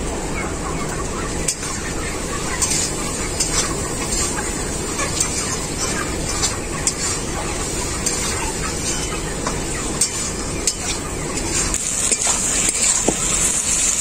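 Chopped tomato hitting a pan of spices with chilli and turmeric powder, giving a steady close sizzle and hiss that runs throughout with small clinks and stirring sounds on top.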